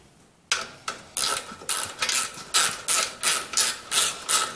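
A ratchet snugs down the bolts on the aluminum muffler of a Briggs & Stratton small engine, giving a close run of about a dozen evenly paced clicking strokes after a quiet start.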